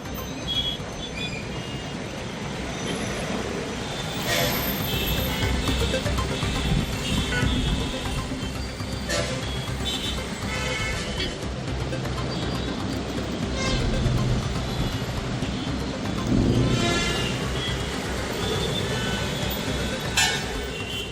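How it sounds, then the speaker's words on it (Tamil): Heavy congestion on GST Road at Tambaram, with a stalled heavy lorry blocking the way after a tyre burst: a dense, steady roadside roar of engines, scattered horn toots and occasional clinks, continuous throughout. "ஜிஎஸ்டி சாலையில் கடுமையான போக்குவரத்து நெரிசல் ஏற்பட்டிருக்கிறது"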